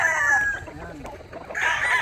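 Gamefowl broodstags and broodcocks cluck close by while a rooster crows, its call cutting off and starting again.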